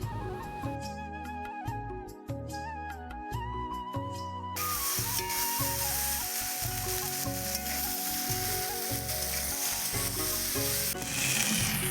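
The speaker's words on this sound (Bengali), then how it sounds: "এবার আমি এর মধ্যে কিছুটা পরিমাণে পোস্ত বাটা দিয়ে দেবো। তারপর আলুগুলো ভালো করে কষিয়ে নেব।" Potatoes fry with poppy seed paste in a pan, giving a steady sizzle that turns louder and denser partway through, partly masked by rhythmic background music.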